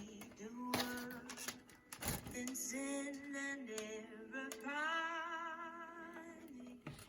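Phone music played through a homemade foil-lined can loudspeaker, a thin, fairly quiet melodic tune with sustained tonal notes and a few sharp clicks, heard alone.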